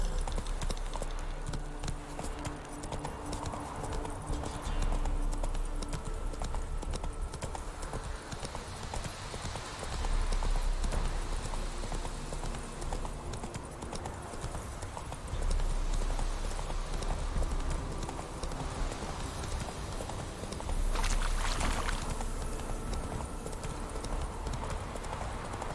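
A horse gallops in The Witcher 3: Wild Hunt, a long steady drum of hoofbeats under a thick bed of game ambience, with periodic low thuds and a faint voice now and then.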